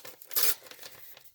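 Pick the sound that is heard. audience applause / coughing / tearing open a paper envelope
tearing open a paper envelope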